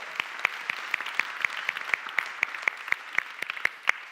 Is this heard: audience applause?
yes